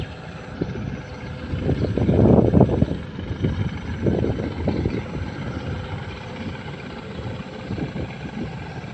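A ship's engine rumbles as the vessel pulls away on a river, a low droning hum with a swelling throb in the middle, heard from nearby over steady wind and water noise.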